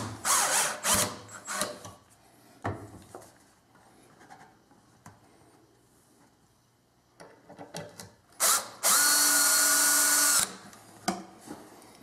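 A power drill fitted with a Kreg K4 pocket hole jig bores into a wooden board in one loud, sustained whine of about two seconds, surrounded by close handling knocks and clatter.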